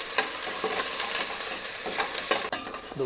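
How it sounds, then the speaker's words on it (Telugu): Green chilies, curry leaves and onions stirred and frying in hot oil for a home-style mutton curry, with steady loud sizzling and repeated scraping stirs of a spatula throughout, no talking. "పచ్చిమిర్చి కొద్దిగా కరివేపాకు కలదిప్పుకోవాలి"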